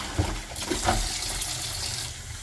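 Warm water runs steadily from a tap for rinsing kitchen cabinets, a continuous close hiss and splash with a few small clunks near the start.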